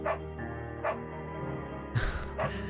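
A beagle barks in the video game Firewatch, giving three or four short, clear barks spaced about half a second apart, close and moderately loud over a steady low musical hum.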